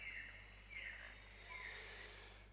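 Insects, likely crickets, chirp steadily in a nature recording, with rapid pulsed trills repeating in quick bursts at a soft, distant level before fading out near the end.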